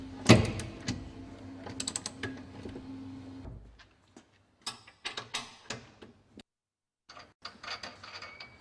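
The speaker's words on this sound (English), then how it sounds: "Now tighten the nuts to a torque setting of 40 foot-pounds." Nuts on a caravan mover are tightened with a torque wrench, giving quiet, close ratcheting clicks and metallic ticks in short irregular bursts with brief silences between them.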